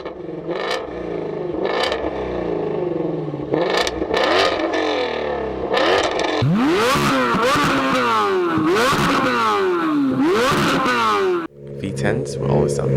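A V8 engine blips and revs in short bursts, then sweeps through several rising high-rev pulls with a deep, rumbling undertone before cutting off abruptly. Loud, close, and with no voices.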